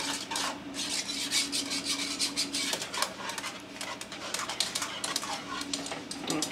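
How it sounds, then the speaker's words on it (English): 3 cups of milk being stirred into a mixture, a steady scraping and rubbing of a utensil against the side of a pot or bowl, continuous and close. "3 cups of milk. Stir it in real good."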